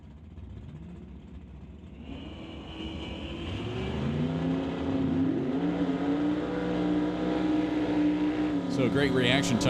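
Two drag race cars, a purple Dart and a 1969 Firebird, idle at the start line at a divisional drag race before their engines rise into a loud, sustained roar on launch, with a commentator talking over it.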